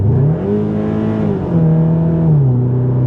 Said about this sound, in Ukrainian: Не дивлячись на це, що тут двохлітровий атмомотор.